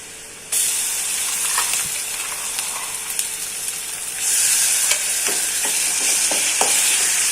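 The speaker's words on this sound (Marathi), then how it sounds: "ती पण पूर्णपणे भाजून घेणार आहोत व्यवस्थितपणे अगदी तेल सुटेपर्यंत" Browned onion and gravy for a mutton rassa frying in oil, a loud continuous sizzle that swells partway through, with scattered scraping stir strokes and no voices.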